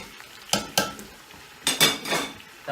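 Chopped onions go into meat cooking in a pot for Afghani pulao, heard as a few sharp clatters of a utensil against the pot with brief sizzling scrapes, close and loud.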